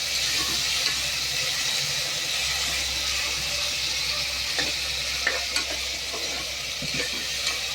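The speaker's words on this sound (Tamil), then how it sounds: "இப்போ தக்காளி, 2 தக்காளி வதங்கட்டும்." Tomatoes sizzle and crackle steadily in a hot pan, a continuous hiss with occasional soft stirring scrapes and small pops.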